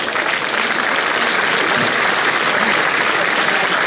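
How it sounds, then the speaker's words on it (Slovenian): Loud, steady applause from an audience at an officer promotion ceremony in Maribor, a dense wash of clapping that holds evenly for a few seconds with no voices over it. "En veliki aplavz."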